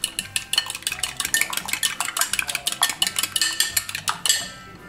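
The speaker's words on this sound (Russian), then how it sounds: "Сейчас же нам нужно вот это одно яичко вбить нам в тесто." An egg is beaten and worked into baklava dough in a bowl, making quick, rhythmic clinks and scrapes of a utensil against the bowl, close and fairly loud, with no voices.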